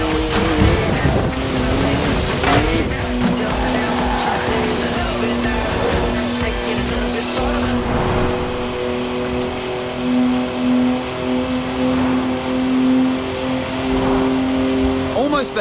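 A BMW drives in Forza Horizon, its engine holding a steady droning tone with revs rising and falling, partly under someone talking.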